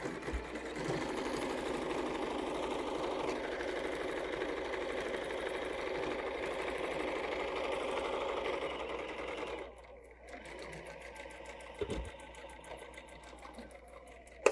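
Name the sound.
sewing machine stitching a quilt-as-you-go table runner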